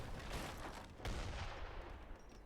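Mortar siege fire in Age of Empires 3, a dense stream of muffled booms and crackling impacts with a heavier burst around the middle, steady and continuous with no talk.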